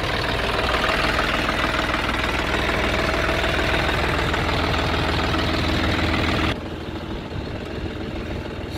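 Tractor engine running with front weights and a lift attached, a steady, loud diesel drone with a knocking idle rhythm that drops abruptly to a quieter, duller rumble near the end.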